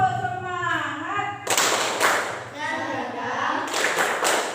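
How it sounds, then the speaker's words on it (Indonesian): A group doing the rhythmic Indonesian tepuk semangat clap in a classroom, bursts of clapping alternating with chanted voices. "Tepuk semangat."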